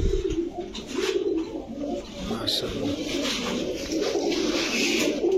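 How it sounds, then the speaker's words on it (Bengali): Domestic fancy pigeons coo steadily and close by, a continuous layered murmur of overlapping calls, with someone briefly speaking over them. "কবুতর দেখেন ভাই, কবুতর।"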